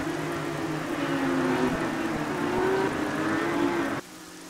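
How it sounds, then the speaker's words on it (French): Onboard sound of a Porsche Supercup race car at Imola, a loud, steady engine drone with a sustained high pitch that holds for about four seconds and then drops abruptly to a quieter idle-like hum. "Vous êtes à bord de la voiture du poleman Simon Pirard"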